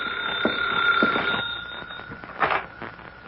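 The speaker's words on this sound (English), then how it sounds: "That's the phone ringing in your office, Jones." An old-fashioned telephone bell rings in an office scene of a vintage radio drama, a clear electric trill in short bursts, moderately loud and alone without voices.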